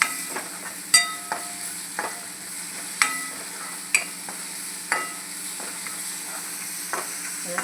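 Ginger, coriander and green chili paste being stirred into browned fried onions in a pan, with steady sizzling and a series of sharp spoon scrapes and clinks spaced about a second apart, close and clear with no talking.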